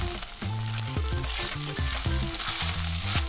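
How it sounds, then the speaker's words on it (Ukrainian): Sausages and onion sizzling and crackling in a hot pan, a steady loud frying hiss with occasional stirring. "Додаємо цибулю і смажимо все разом."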